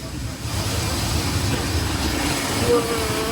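A 40-year-old propeller plane roars as it takes off from a dirt airstrip on safari, giving a loud, steady engine drone with rumbling from the ground throughout.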